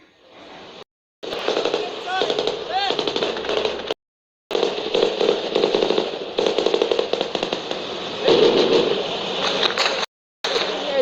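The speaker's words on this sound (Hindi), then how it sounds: "काफी ज्यादा फायरिंग हो रही है" Dense, rapid bursts of heavy gunfire crackle through a war-zone firefight in Iraq between the army and militants, loud and sustained, broken by a few brief silent gaps, with talk mixed into the chaos.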